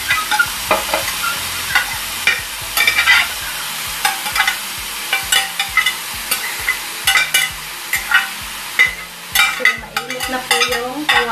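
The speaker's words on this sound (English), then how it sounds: "Ilalagay ko lang po yung aking minced beef dyan." Minced beef fries in hot oil with loud, continuous sizzling, cut by repeated sharp scraping and clacking strokes of a utensil stirring the meat in the pan, all close and with no talking.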